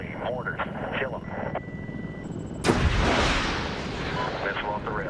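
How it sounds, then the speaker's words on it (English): A missile launches from an attack helicopter in the video game Medal of Honor 2010, a sudden loud whooshing roar that cuts in over the helicopter's rotor drone and radio chatter and then trails off. "Missile off the rail."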